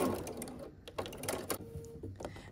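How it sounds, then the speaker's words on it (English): A sewing machine stitching a quilt block seam in short, uneven bursts of rapid needle clatter, close up, with brief pauses between runs. "So we're going to sew across here."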